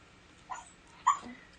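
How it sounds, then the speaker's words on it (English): A puppy gives two short, soft whimpers, the second a bit louder and higher, in a quiet indoor room. "Oh, hush, puppy."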